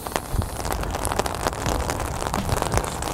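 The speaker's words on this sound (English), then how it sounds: "You can see the rain coming down." Steady rain falls across a cemetery, a dense, continuous patter of drops hitting the ground and surfaces nearby, with no voices over it.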